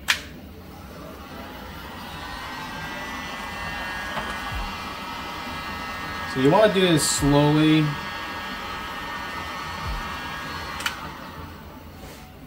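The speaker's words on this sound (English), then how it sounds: "It's starting to melt away, but I'm gonna get a heat gun." Heat gun blowing hot air to melt a blob of 3D printer filament, a steady close airflow hiss running under a man's speech, with a brief louder burst in the middle.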